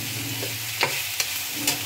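Mixed winter vegetables fry in a pan with a constant sizzle, while a utensil scrapes and stirs in three short, distinct strokes, close and clear.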